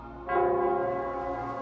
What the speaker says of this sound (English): It would seem it's the bell.